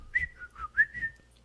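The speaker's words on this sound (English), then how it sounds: "Just point at the guilty party and whistle, Lindsay." A person whistles a short, clear, wavering tune of several notes, close and alone.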